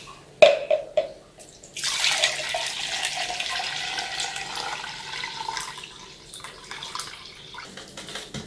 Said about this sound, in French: Tamisons notre riz.